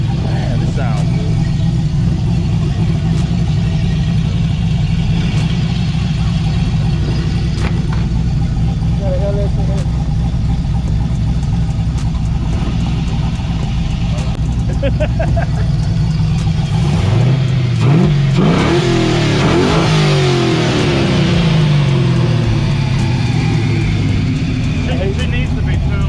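A twin turbo car engine rumbles at a loud, steady idle, then revs up and down in rising and falling sweeps near the end, with people talking over it.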